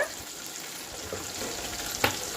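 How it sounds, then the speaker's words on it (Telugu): Chopped onion and green chili fry in hot oil for chicken fry, giving a soft, steady sizzle with a few light stirring scrapes and one brief sharper clink near the end. "ఉల్లిపాయ పచ్చిమిరపకాయ ముక్కలు వేసుకున్నాము కొంచెం వేగనిక దోరగా ఇవ్వాలండి"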